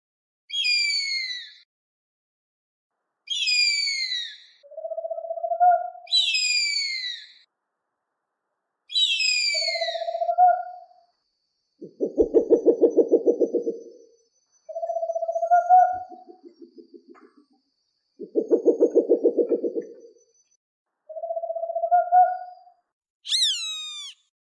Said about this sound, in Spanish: Quiero ponerte cómo es el sonido de las aves rapaces.